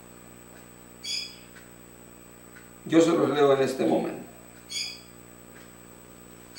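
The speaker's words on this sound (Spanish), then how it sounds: "Usted escucha mis pericos ahí, hermano." Pet parakeets squawk indoors, giving two short, shrill calls several seconds apart, with someone speaking between them.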